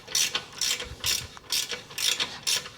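A hand ratchet tightens the original factory exhaust joint at the catalytic converter on a Mercedes AMG G63, giving six loud, close bursts of rapid metallic clicking evenly spaced about half a second apart.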